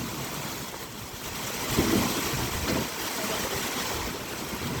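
Heavy rain on a farm in Saudi Arabia, a steady broad hiss of downpour with gusty swells, constant and moderately loud with no voices.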